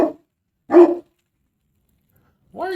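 Skipper the dog gives three short, close barks with clear silent gaps between them in a quiet kitchen.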